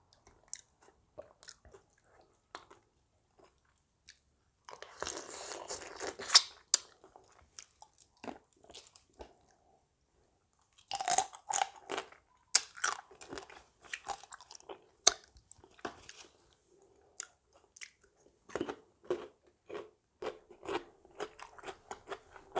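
Close, moist crunching and chewing of spicy Thai blue crab salad, in repeated bursts of bites separated by short quiet pauses, with no talking.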